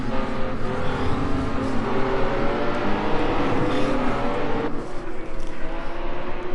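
A pack of M1 Pro race cars runs at Long Beach, overlapping engine notes rising and falling as the field accelerates, with faint talk underneath.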